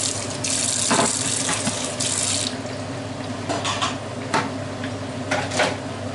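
Tap water runs steadily into a kitchen sink while a soup pot is scrubbed, with faint clinks of cookware and splashing bursts over the constant gush.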